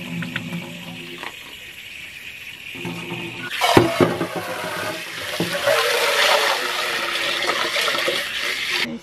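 Tap water runs into a sink at a campsite while spinach is washed, a steady close splashing stream that starts after some quiet handling and clatter and carries on to the end.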